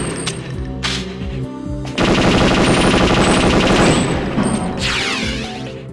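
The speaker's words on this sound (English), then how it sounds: "The Dragon is actually a surprisingly accurate gun" Rapid automatic fire from the Dragon gun on the firing range of the video game Perfect Dark, a loud dense burst of shots sustained for several seconds, with shorter bursts before it.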